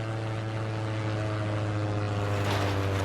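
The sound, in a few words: plane flying overhead in Sleeper demo video game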